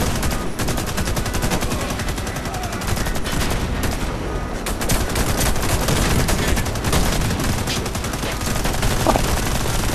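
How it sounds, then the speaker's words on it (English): Nonstop automatic gunfire in the shooter game Warface, loud and dense, with rapid bursts and overlapping shots running through the whole stretch without pause. "I'm being shot."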